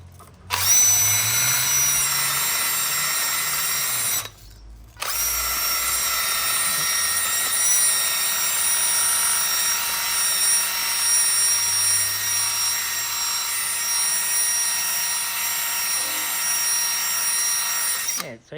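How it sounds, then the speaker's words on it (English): A wire wheel spun by a power drill scrubs the case of an automatic transmission being stripped for paint, a loud steady whine held almost continuously, broken by one short pause near the start. "we've got the wire wheel there"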